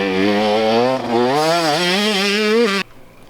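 A dirt bike engine runs at low speed under light throttle and clutch, its close, buzzing tone wavering and rising slightly before cutting off abruptly near the end.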